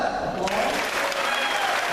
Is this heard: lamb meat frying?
no